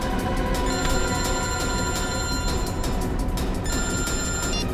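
Telephone ringing on an outgoing call, a steady electronic ring tone repeating in short regular bursts, close and clear with no voices over it.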